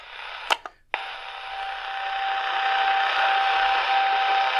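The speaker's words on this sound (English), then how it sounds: "More birdie tones." A steady high birdie tone whistles through hiss on a DreamSky DS-209 AM FM portable radio, holding constant for several seconds after a few short clicks at the start.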